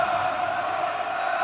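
Basketball crowd in Monastir protesting during a stoppage in a final, a dense roar of many voices shouting and jeering at once, sustained and loud throughout the short burst.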